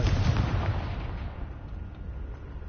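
A Confringo blasting spell explodes in the Hogwarts Legacy video game, a loud low boom at the start that rolls off into a fading rumble.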